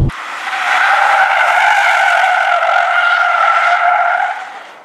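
Car tires skid and squeal in a long, loud, continuous howl as the car understeers through a corner on a race track, rising quickly and fading away at the end.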